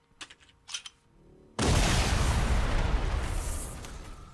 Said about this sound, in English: Boom. Explosion.